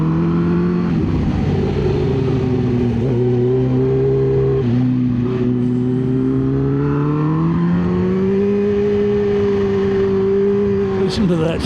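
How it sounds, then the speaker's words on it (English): Kawasaki Ninja H2 superbike with its supercharger whining, heard close and loud as the engine note rises and falls through corners, steady droning tones sliding up and down under wind rush. "Listen to that supercharger"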